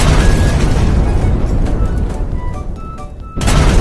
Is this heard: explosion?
yes